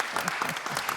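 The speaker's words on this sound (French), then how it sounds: "on va tous applaudir Joël alors" An audience at a chocolate tasting applauds Joël in a short, dense spatter of clapping with voices mixed in beneath it.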